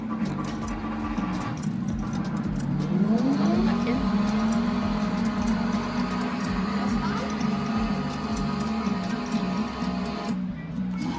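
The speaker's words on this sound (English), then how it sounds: "You can also make a song out of various car noises that we try to do." Porsche car engine sounds fill the Porsche Museum in Stuttgart: a steady low rumble with a rising rev sweep partway through, under a background murmur of indoor voices.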